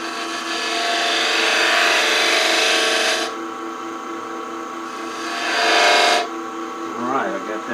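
A detail spindle gouge slicing a fillet into a wooden goblet on a spinning lathe gives a steady, fairly loud scraping hiss that pauses briefly twice. A softer rasp follows, and a brief voice-like warble comes at the end.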